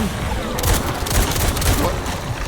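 Rapid bursts of gunfire in the video game Resident Evil Requiem crackle in quick succession over a dense noisy mix, loud and continuous.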